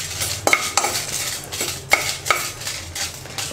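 Coriander seeds and dried red chilies dry roasting in a pan for Chettinad chicken, with rhythmic scraping stirs and light rattling clinks of a spoon against the metal, close and loud with no talking.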